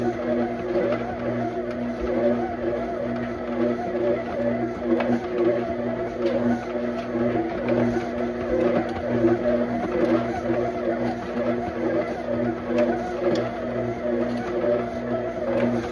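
A stand mixer kneads sourdough bread dough, giving a steady, continuous motor hum with a churning drone at an even level for the whole stretch, with no talk over it.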